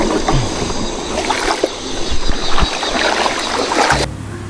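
Small boat driven by a 5 PK outboard engine travelling upriver on a jungle river in Kalimantan, a steady nearby motor drone with water splashing and rushing, cutting off abruptly near the end.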